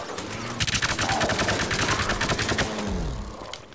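Rapid automatic gunfire from the video game Plants vs. Zombies: Garden Warfare rattles in a dense, loud burst lasting several seconds, with no speech over it.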